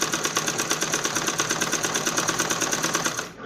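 A sewing machine stitching an apple cut kurti along its curved edge, a close, steady rhythmic whirring with rapid regular needle pulses, running continuously before easing off at the very end.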